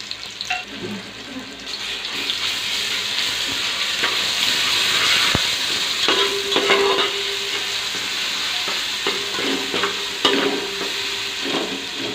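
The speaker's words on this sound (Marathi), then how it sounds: "आता आपण यामध्ये वाटलेलं कोथिंबीर आलं लसूण टाकलं आणि मिरची" A ground paste of coriander, ginger and garlic with chilli fries in hot oil for chicken dum biryani, giving a steady sizzle with intermittent stirring clinks and scrapes, close and moderately loud.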